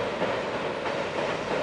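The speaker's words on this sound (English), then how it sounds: "We just show the train going by." Train rolling past on rails near Troutville, Virginia, a steady rumbling roar with a faint clickety-clack, continuous and fairly close throughout.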